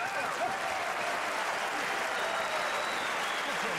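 Italian boxing fans applauding in a packed sports arena, a steady dense roar of clapping and crowd noise throughout, loud and continuous.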